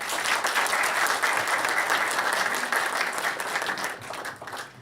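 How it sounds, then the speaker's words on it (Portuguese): Loud, dense audience applause at the close of a workshop panel on tax and accounting compliance costs, a continuous roar of many hands clapping that tapers off near the end. "Muito obrigado, uma salva de palmas para nós."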